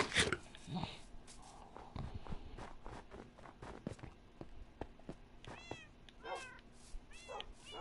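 Several Minecraft cats meow in short, rising calls spread across the stretch, mixed with soft footsteps and scattered game noises, all at fairly low volume.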